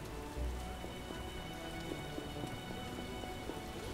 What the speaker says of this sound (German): Ich habe diesen Wolkenbruch nicht genehmigt.